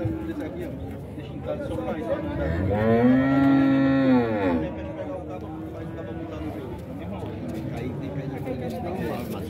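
A dairy cow at a cattle fair in Dois Riachos, Alagoas gives one long, loud, close moo lasting about two seconds, with crowd chatter and voices talking throughout the market.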